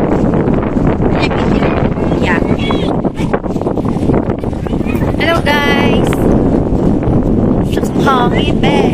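Gusty wind by the sea at low tide buffets the microphone in a loud, continuous rush, while people talk over it throughout.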